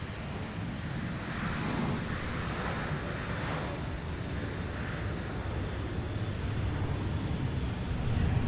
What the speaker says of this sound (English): Ooh, that wind's picking up.